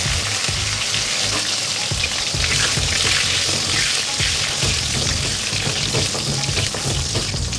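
Eggplant and pointed gourd frying in a pan, a steady dense sizzle with occasional stirring clatter, close and loud throughout without talk.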